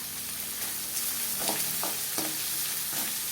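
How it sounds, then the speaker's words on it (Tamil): Onion sizzles in coconut oil in a pan while being stirred for spicy pidi kozhukattai, with a steady close frying crackle and a few sharp scraping clinks from the spoon. "வெங்காயம், இதுக்கு நம்ம தேங்காய் எண்ணெய் ஊற்றிருக்கிறோம்."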